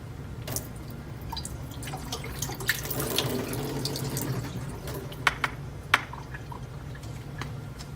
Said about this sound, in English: You can disconnect the water drainage tank and again drain any remaining water.